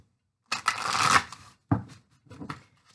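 A deck of tarot cards is shuffled up close: one long riffling burst of flicking cards, then a sharp tap and a couple of shorter softer riffles, crisp and alone in a quiet room.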